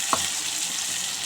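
A paste of onion, ginger, garlic, green chili and cumin goes into a hot frying pan with a steady loud sizzle throughout and a brief soft knock at the start.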